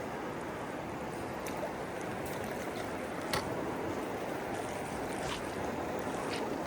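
Stream water rushes steadily at a rocky hiking-trail crossing on the Pacific Crest Trail, a continuous close wash of flowing water with no talking.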